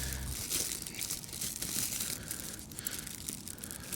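Sharp scissors chopping up worms for winter fishing bait, a steady run of close, soft crunching and crinkling snips over a quiet, even background.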